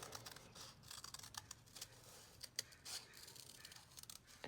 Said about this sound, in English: then you take your scissors, and you might want to cut the whole thing out first